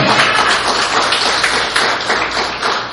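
A church congregation clapping together in praise, a loud, dense, continuous wash of many hands with a faint pulsing rhythm and no talking.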